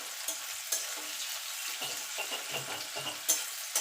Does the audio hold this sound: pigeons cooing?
no